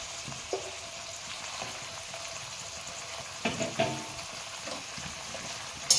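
Bottle gourd greens frying in a pan with poppy seed and chilli paste, stalks and potato: a low, steady sizzle with a few soft stirring scrapes, no talking.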